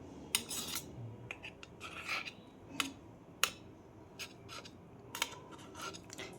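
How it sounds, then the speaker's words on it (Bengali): The back of a metal spoon scrapes and clicks against a steel idli mould while lifting out green cheese idlis, giving short irregular scraping rasps and light metallic ticks, quiet and close. "আমি চামচের পেছনটা দিয়ে ইডলিগুলো তুলে নেব।"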